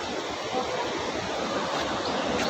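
Fast-flowing Sethi river in Nepal, running down from the Himalayan mountains, gives a dense, unbroken rushing roar of churning water, close and even in loudness from start to finish.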